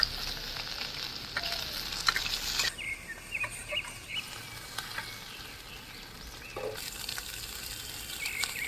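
Chopped tomatoes fry in a pan for a Bengali fish curry, a steady soft sizzle running throughout with small spits and a few stirring scrapes, close by.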